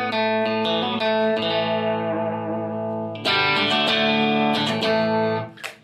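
A Fender Vintera 60s Stratocaster on its bridge pickup rings out sustained chords with effects and light distortion, then a second chord is struck and left to ring before it fades.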